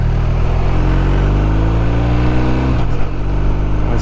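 Motorcycle engine revving steadily with rising pitch, then a quick-shifter upshift cuts the note and drops the revs before it pulls again, loud and close.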